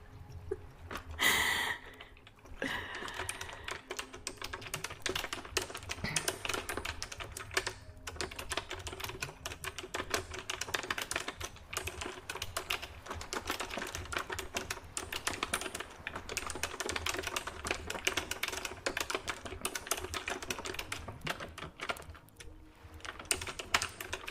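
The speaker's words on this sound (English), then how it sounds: "That's a little bit of keyboard typing." Steady, fast clicking of a computer keyboard as someone types continuously for over twenty seconds, close and dense, with a brief pause early on and no talking.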